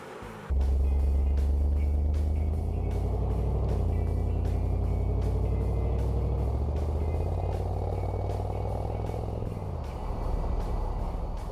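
1978 Chevrolet Corvette with a 350 small-block V8 starting up, then a deep, steady idling rumble holding near and loud for several seconds, with a faint rhythmic ticking over the top.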